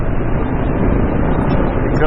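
A 2024 Kawasaki KLR 650 motorcycle rides along back roads with a steady, loud engine drone and rushing wind. It holds an unbroken rumble throughout.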